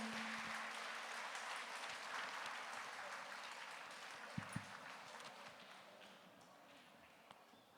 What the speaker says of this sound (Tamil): எங்கே உங்கள் பலத்த கரகோஷங்கள்?